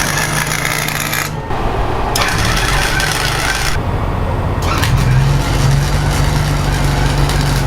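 Welding on a bus conversion gives a loud, steady crackling hiss with a low hum underneath, broken by short gaps where the arc stops and starts again.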